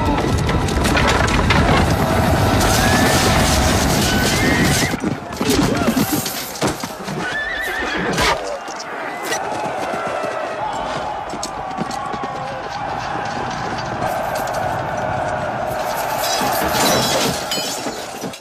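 Film battle scene of Scotland fighting England: horses whinny and gallop amid clashing, crashing and shouting, loud and chaotic, with voices over the din.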